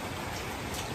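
Rain falls steadily in Patna, a dense, even hiss of drops on surfaces with no pauses and no voices.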